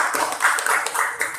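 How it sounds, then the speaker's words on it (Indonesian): Students in a classroom clap for a presenting group, a short burst of many hands clapping close by at an even, moderate level. "kita berikan tepuk tangan untuk kelompok 4"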